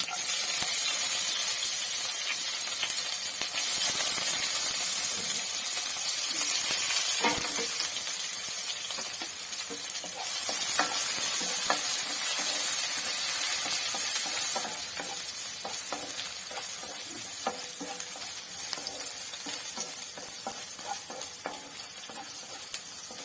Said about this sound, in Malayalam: നമുക്കിനി കടുകിടാം. ഉള്ളി ഇടാം.